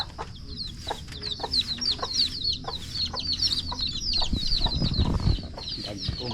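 Native chickens cluck and chatter repeatedly nearby, with high bird calls overhead and a brief burst of rustling or wing flapping toward the end.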